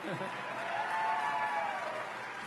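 An audience at a political speech in Minneapolis claps and cheers, a steady wash of applause heard at a moderate distance with a faint voice rising over it.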